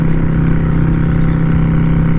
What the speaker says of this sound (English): You get a really nice sound from the exhaust.